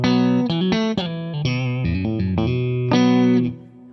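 A PRS Private Stock Modern Eagle V electric guitar in single-single-humbucker pickup setting plays a run of distorted, chorus-tinged notes and chords, steady and bright, with a longer held chord near the end before fading.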